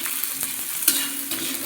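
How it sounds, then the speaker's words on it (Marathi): Onion fries on a hot tawa and a spatula stirs it. A steady close sizzle is broken by scraping strokes and one sharper clack. Nobody speaks. "हा आपण चांगला गुलाबी होईपर्यंत भाजून घेऊयात."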